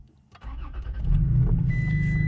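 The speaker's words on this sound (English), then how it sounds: "So now what we're gonna do is brake pedal and start the truck." A 2016-or-later third-generation Toyota Tacoma truck engine cranks briefly and catches, then settles into a steady, loud low idle, heard close with no talking.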